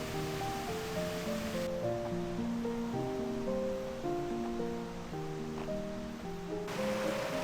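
A clear mountain valley stream flows in summer with a steady, broadband rush, heard under louder melodic music that plays throughout.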